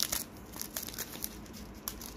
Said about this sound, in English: Can rip it open, but I don't want to ruin the cards.